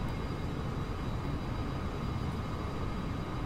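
Boeing 737-800 jet engines climbing after takeoff in X-Plane 11, a steady, unbroken broadband roar with a faint high whine, loud and constant with no other sounds.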